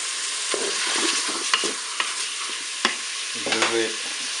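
Onions and semolina garlic fry and are stirred in a Cookeo, giving a soft steady sizzle with close scraping stirs and several sharp utensil clicks against the pot, plus a brief tonal beep near the end.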